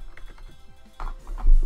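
Keys clatter on a computer keyboard in a short burst of quick, irregular taps, close and fairly clear, with a heavier thump near the end.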